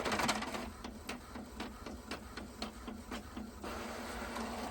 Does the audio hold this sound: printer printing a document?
yes